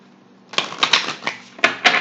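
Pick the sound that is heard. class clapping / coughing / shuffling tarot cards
shuffling tarot cards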